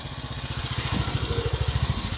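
A 1944 BSA WM20 motorcycle engine with a British Army-pattern baffled silencer runs close by, giving a muted, muffled, steady rhythmic thumping that builds slightly in strength over the two seconds.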